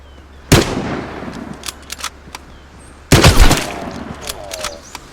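Gunfire in the video game Vigor, two loud close shot bursts a few seconds apart, each followed by echoing tails and clatter.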